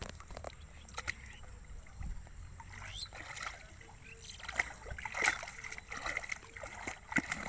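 Faint splashing and sloshing in a small rainwater pond during a search for fish, with irregular splashes through the whole stretch and quiet background voices.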